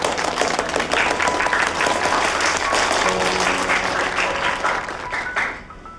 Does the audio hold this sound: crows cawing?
no